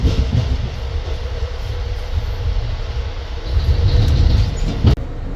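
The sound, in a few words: Amtrak Borealis passenger train riding and swaying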